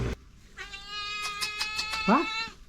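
A mother cat with kittens meows in a hillside village in Idukki, giving one long, drawn-out wailing meow followed by a shorter cry, close by and clear.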